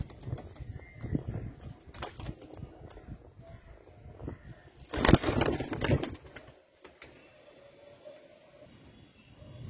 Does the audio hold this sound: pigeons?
yes